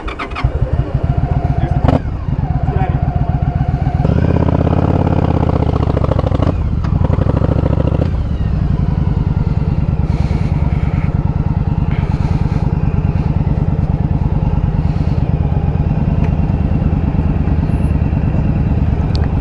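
A Yamaha V-Star 1100 motorcycle engine cranks and catches, then runs loud and close with a rough, lumpy idle that swells briefly before settling, while people talk nearby.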